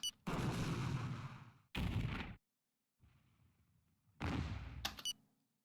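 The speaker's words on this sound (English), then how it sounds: "Uh-oh, long-range missile." Long-range missile strike in the Power & Revolution strategy game: a few heavy, roaring blasts arrive in separate bursts with short gaps between them, loud and close, with no voices.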